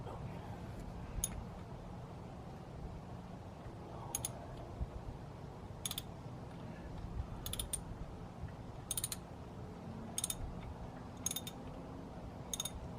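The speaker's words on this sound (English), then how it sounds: "we're gonna use this 17 millimeter deep socket to get this sucker out" Ratchet with a 17 mm deep socket backing out the coolant temperature sensor on a Mitsubishi Galant VR4: sparse, sharp ratchet clicks recur every second or so over a steady low rumble.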